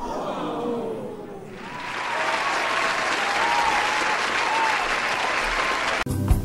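Sustained applause from a crowd, steady and fairly loud for several seconds, with faint tonal music lines running beneath the clapping before a brief break near the end.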